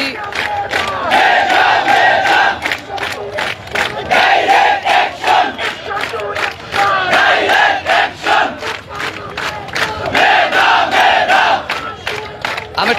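A crowd of student protesters at a road blockade outside a university chants a rhythmic slogan in loud, repeated call-and-response bursts, voices close and forceful with brief pauses between lines.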